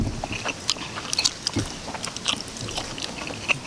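Someone eats spicy stir-fried Mama instant noodles with mango, making close, crunchy bites and wet chewing in uneven bursts, with no speech.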